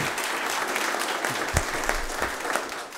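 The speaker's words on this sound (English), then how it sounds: "Hope you're not all embarrassed when you applaud before we vote" Applause at a Waco ISD school board meeting, steady clapping from the audience throughout, fairly close and even in level, with no talk over it.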